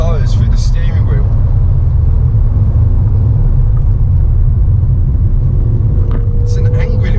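A Ford Fiesta ST's engine growls with a steady low rumble from inside the moving car, accompanied by road noise throughout, with a faint rising whine near the end.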